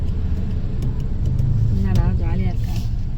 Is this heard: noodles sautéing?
no